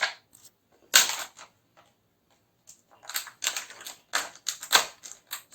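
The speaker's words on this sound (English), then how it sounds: "I'll take one glass and cut it from the neck part with the help of scissors" Scissors snip through a thin disposable plastic glass at the neck, giving sparse crisp cutting clicks and crackles in short bursts with quiet gaps, close and fairly loud, no voice.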